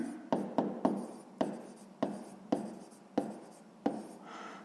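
A pen scratches across paper while a math equation is written out for a sixth-grade exercise. About eight crisp, close strokes land in an uneven rhythm, each with a brief scrape trailing behind it, with no talk.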